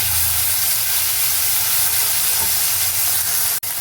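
Steady broadband sizzling of ginger garlic paste frying in hot oil, continuous and close, with a brief dropout near the end.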